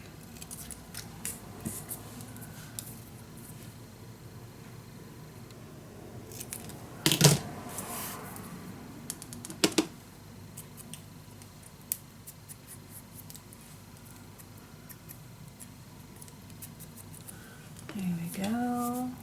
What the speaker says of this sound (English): You just can cut out these words if you like.